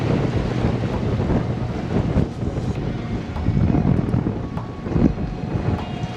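A sailboat moves quickly at 6 to 7 knots on a sunny day in the Bahamas, with steady, loud wind rushing over the microphone and water washing along the hull.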